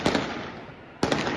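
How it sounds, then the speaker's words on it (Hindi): Police gunfire at night in Pakistan, two sharp, loud reports a second apart, each with a quick echoing follow-up crack, over a steady background hiss. "किस तरीके से गोलियां चलाई जा रही हैं वहां पर।"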